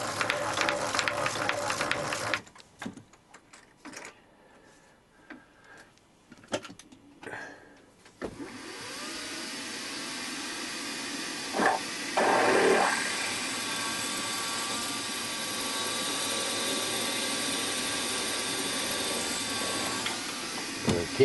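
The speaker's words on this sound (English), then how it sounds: "I'm going to put a quarter reamed hole in" A quarter-inch reamer is machine-reamed through a hole during a Webster engine build, heard as a steady, sustained machine whir and hiss that starts after a few seconds of quieter shop sounds and holds for the rest of the clip.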